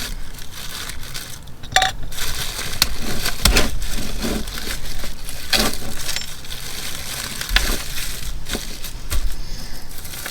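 Small pink beads on short strands clicking and rattling as they are handled, a run of close, light clattering and rustling taps with no talk.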